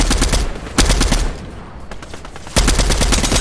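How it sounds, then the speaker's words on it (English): Rapid gunfire from a shooting video game comes in loud, close bursts of shots, with a brief lull before a final volley. "Turn and shoot him."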